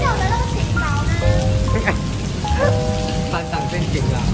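Steady rain falls at night, a constant dense hiss close by, while faint tonal sounds and murmuring voices drift under it.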